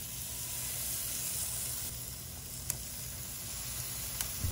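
Chicken thighs sizzling on a gas grill at 350 degrees, a continuous even hiss of fat and juices with a couple of faint clicks, heard alone without talk.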